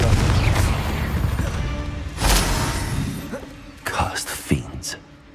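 Confringo fire spell blast in Hogwarts Legacy: a deep booming burst under a loud shouted voice and rumbling game noise, followed by a few smaller crackling pops.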